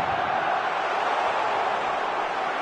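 A huge crowd of around 100,000 football supporters sings in unison in a packed Catalan stadium in a video game, a dense, loud and steady roar of massed voices that fills the whole clip with no break.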